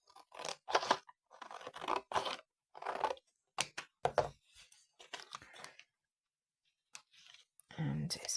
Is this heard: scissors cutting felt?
yes